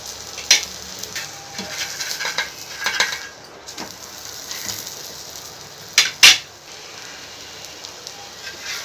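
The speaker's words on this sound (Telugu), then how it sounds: "ఆలు మిక్స్ చేసి ఇందులో ఫ్రై చేసుకోవాలి. లైట్గా ఫ్రై చేసుకోవాలి." Potato pieces lightly frying in ghee in a pan for ragada chaat, giving a soft steady crackle with scattered clinks and scrapes of a spoon stirring against the pan, plus a couple of sharper knocks near the end.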